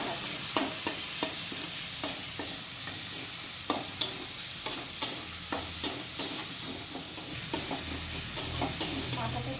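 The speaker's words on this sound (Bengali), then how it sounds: "আমি একবারে মাথাটা সহ একবারে ভাজবো।" A fish head fries with spice paste in a hot pan, with a steady sizzle under repeated sharp scrapes and knocks of a stirring spoon at a loose, uneven rhythm.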